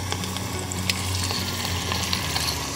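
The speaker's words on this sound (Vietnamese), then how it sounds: "mình mở lửa hơi lớn lên để cho cái thịt vịt nó săn lại á" Duck meat fries in a deep pot over high heat, a continuous crackling sizzle with scattered pops, close and fairly loud, with no one talking.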